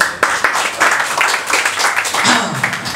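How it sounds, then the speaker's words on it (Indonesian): An audience claps at a magic open stage show, a loud burst of applause with uneven hand claps, while a voice speaks over it toward the end. "tepuk tangan untuk open stage"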